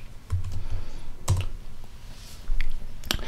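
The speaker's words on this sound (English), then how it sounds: "we are going to type download MariaDB" Typing on a computer keyboard, a handful of separate key clicks and taps spread unevenly, close and clear with no talk.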